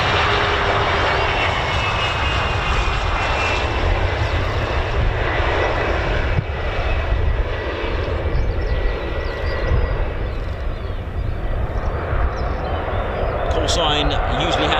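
An Embraer jet flies over an air show aerodrome, a loud, steady broadband engine roar sustained throughout, with people talking over it.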